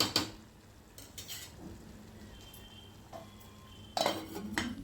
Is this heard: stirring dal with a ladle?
yes